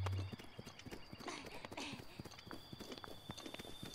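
Horses in The Legend of Zelda: Breath of the Wild clip-clopping along at a steady trot, hoofbeats fairly close and rhythmic, with a brief neigh near the start and faint game ambience beneath.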